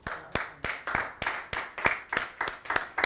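Rhythmic clapping at a puppet theatre anniversary celebration, about ten crisp, evenly spaced claps from a small group, close and fairly loud.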